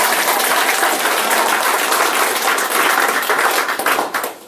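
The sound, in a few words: audience applause after a lecture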